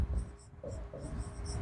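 A pen scratches out a Class 9 number-system math solution on paper in a few quick, close strokes, with faint talk in the background.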